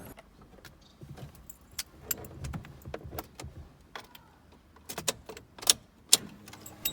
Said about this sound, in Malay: aku perlu onkan ignition kereta